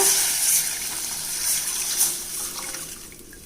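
Prepared tamarind rasam mixture for thoothuvalai rasam is poured into a pan, making a steady liquid splashing stream that is close and fairly loud and tapers off toward the end.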